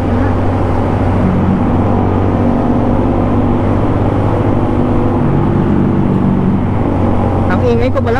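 A Suzuki Gixxer motorcycle rides through a city tunnel, its engine drone loud and reverberant under constant wind and road roar, with a brief higher sweep near the end.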